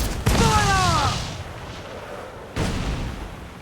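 Ship cannons in Assassin's Creed IV Black Flag fire a broadside, with a sharp booming blast followed by a decaying rumble and a second report later, close and loud, with a brief voice-like cry at the start.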